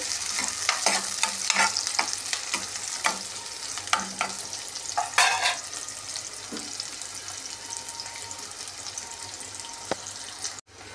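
Mustard seeds frying in a pan for a Telugu amaranth-leaf stir-fry, a bright crackling sizzle with busy stirring and scattered pops up close, then fading toward a quieter hiss before an abrupt cut near the end.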